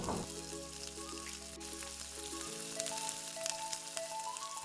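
Pork with fish sauce sizzles in a pan as batchoy is cooked, a steady crackling fry with scattered pops and a low hum that cuts out partway through, and no one speaks.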